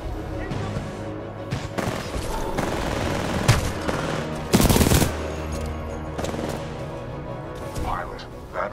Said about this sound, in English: Commencing supporting fire. Danger close.